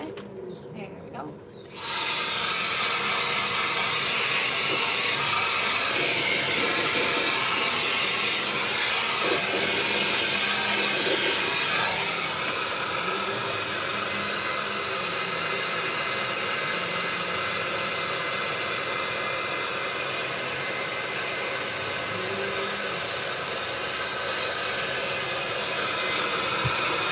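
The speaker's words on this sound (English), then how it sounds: "let's start with the dryer" A pet dryer blows steadily while a cat is groomed for a lion cut, a loud continuous whoosh that starts after a brief quiet moment and runs throughout, with faint voices and small handling noises beneath it.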